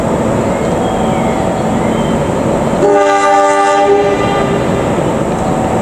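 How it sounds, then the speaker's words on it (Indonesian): The Bandung Raya Ekonomi passenger train departs Rancaekek station amid a loud steady rumble of running gear, with a long harmonic horn blast sounding near the middle. "Sebentar lagi kereta api Bandung Raya Ekonomi akan segera diberangkatkan menuju tujuan akhir stasiun Padalarang."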